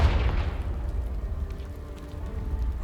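A Confringo blast spell goes off in Hogwarts Legacy as a single deep, booming burst at the start, then fades into a low rumbling tail.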